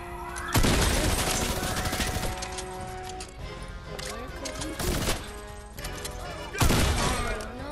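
Rapid gunfire from a Fortnite match crackles in bursts, with sharp louder volleys near the start, middle and end, mixed with game effects while players talk over it.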